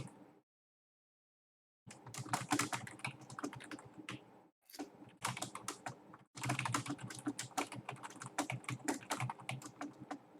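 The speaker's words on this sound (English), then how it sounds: "Wow, I can hear your typing" Loud, close clattering of fingers typing fast on a computer keyboard, in dense bursts of keystrokes separated by short silent gaps.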